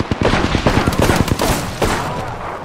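Rapid automatic gunfire in Apex Legends cracks out in quick bursts, loud and close, with several rounds per burst and short gaps between volleys.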